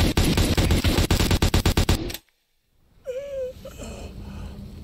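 A rapid burst of loud, close gunfire from the video game Metal Gear Solid V fires about a dozen evenly spaced shots, then cuts to sudden silence, followed by a faint whimpering voice.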